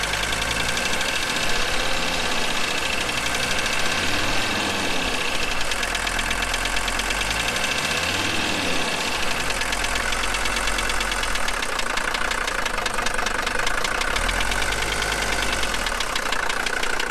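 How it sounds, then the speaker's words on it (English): An old Mercedes engine, run after sitting 20 years in a garage, idles roughly with a loud knocking rattle and rises in a few slow revs, close and continuous with no talk. "rev her up a little"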